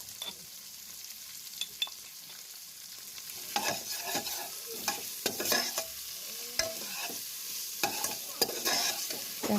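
Onions fry in a pan for a jackfruit curry, with steady sizzling under repeated scraping stirs that come in irregular bursts, close and moderately loud, with no talk.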